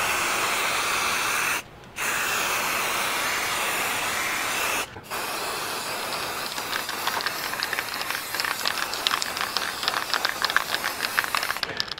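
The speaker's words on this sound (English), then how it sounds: "Now I will start spraying." Steady hiss of an aerosol spray paint can spraying balloons, broken by two brief pauses, then resuming with a sputtering, crackling edge as the spraying continues close by.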